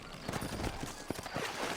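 Horse hooves clip-clop at a steady walking pace in the western video game Red Dead Redemption, close and continuous across the whole moment, with one sharper hoof strike standing out.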